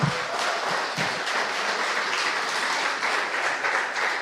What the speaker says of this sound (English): give Josiah a true round of applause for just everything